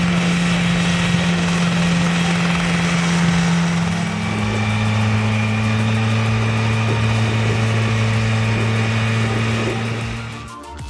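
The engine of a homemade flying machine runs loud and close, a steady buzzing drone whose pitch drops partway through before it fades slightly at the end.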